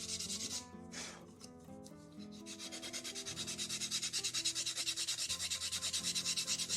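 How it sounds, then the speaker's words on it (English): Sandpaper rubs on a wooden pipe being carved, first in a few scattered strokes, then in a fast, even back-and-forth rhythm, close and fairly quiet. "You just keep on sanding down different bits until you can't find any more bits that seem to need to be sanded down."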